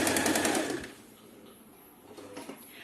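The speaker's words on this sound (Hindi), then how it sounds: "इस तरह से थोड़ा सा घुमाने के बाद एक बार और इस पर वापस सिलाई लगा देंगे।" Domestic sewing machine stitching kurti fabric, a fast loud needle whirr for under a second that stops abruptly, followed by faint handling rustle and a brief soft mechanical stir.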